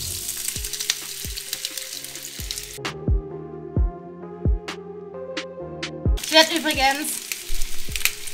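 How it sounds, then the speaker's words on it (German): Fried potatoes sizzle steadily in a hot pan, with sharp scraping knocks as they are stirred and someone speaking briefly over the frying. "Ich habe jetzt die Bratkartoffeln voll angebraten"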